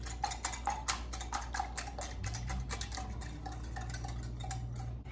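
Six eggs whisked in a dish, a rapid run of light clinking taps of the whisk against the dish, close and fairly faint over a low steady hum.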